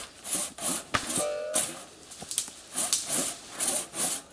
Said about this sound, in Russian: Сережа, опускай пониже пилу.